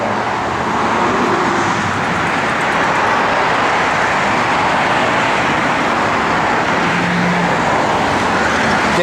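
A 1965 Ford Mustang 2+2 with a 4-speed manual transmission idles steadily, and its engine keeps up a constant, broad, fairly loud rumble from start to finish.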